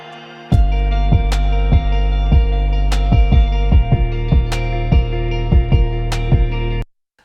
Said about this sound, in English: So we have this 808 track that sounds like this.